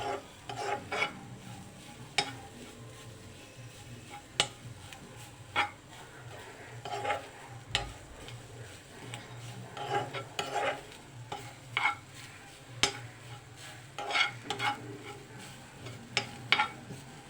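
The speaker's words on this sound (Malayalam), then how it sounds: "നമ്മുടെ ചക്കക്കുരു അതിലേക്ക് ആഡ് ചെയ്ത് കൊടുക്കണം കേട്ടോ. നന്നായിട്ടൊന്ന് വറുത്തെടുക്കണം." Jackfruit seeds dry-roasting in a pan for laddu, stirred with a utensil that scrapes and clinks against the metal in irregular strokes over a faint, steady sizzle.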